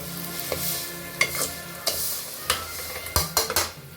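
Roasted rice is stirred in a pan with onion and peas for onion matar pulao, a soft sizzle beneath sharp, irregular scrapes and knocks of a spoon against the pan, close and clear.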